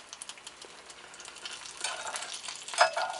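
Potatoes fry in a Lodge cast iron skillet, a soft, fairly faint sizzle and crackle that grows a little louder with a few light spatters near the end.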